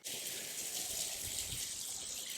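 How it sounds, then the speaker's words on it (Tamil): Water is poured off from soaked ground wheat batter for Tirunelveli halwa, a steady close splashing gush that runs unbroken for a couple of seconds. "போதுமான அளவு மட்டும் தண்ணி வச்சுட்டு அதை அப்படியே இருத்துருதோம்."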